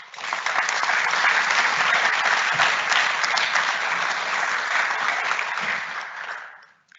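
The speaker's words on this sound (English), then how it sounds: "Please join me in celebrating Sean and Kerry with a warm round of applause" Sustained audience applause at a school speech day, dense steady clapping from a large crowd lasting several seconds before fading out at the end.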